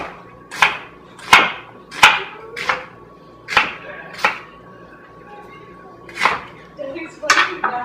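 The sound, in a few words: knife chopping half an onion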